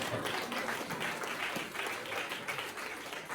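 Applause from an audience at a church gathering, a dense, continuous wash of clapping lasting a few seconds at moderate level, with faint voices mixed in.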